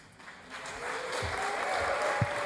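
Audience clapping at an evening Brooklyn Pride interfaith service, a soft wash of applause that builds gradually over a couple of seconds, with a few louder claps near the end.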